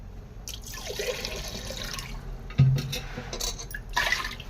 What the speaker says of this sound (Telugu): 10 గ్లాస్ ఆఫ్ వాటర్, కొంచెం ఎక్కువైనా చూసుకొని వేసుకోండి